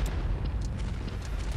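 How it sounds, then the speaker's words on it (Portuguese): A grenade detonates in the shooter game Blood Strike, a deep rumbling boom with low-end roll that fills the short moment without any talk. "Não mata ninguém essa granada, velho."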